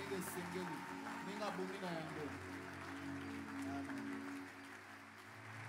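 Church congregation applauding and cheering the Lord, a steady wash of clapping and crowd voices under a speaking voice, moderately distant and sustained throughout.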